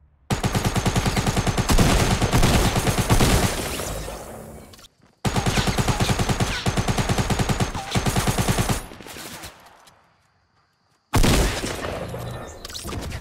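Sustained rapid SMG fire in Fortnite Battle Royale, loud dense automatic bursts of several seconds each, broken by short pauses and one longer gap before firing resumes.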